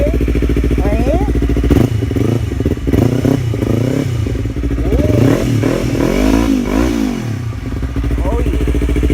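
A Yamaha R3 motorcycle engine starts and runs loudly nearby with rough revving surges, while someone talks excitedly over the noise throughout.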